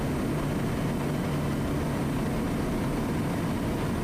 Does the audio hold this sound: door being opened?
no